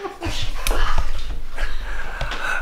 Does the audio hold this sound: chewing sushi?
no